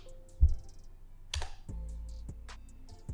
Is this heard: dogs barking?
no